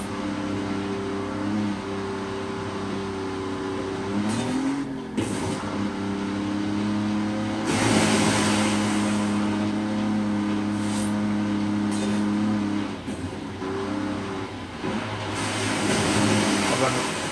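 A car engine drones and revs continuously during a race in the video game Forza Horizon 5, with pitch shifts and brief bursts of noise, while someone talks over it.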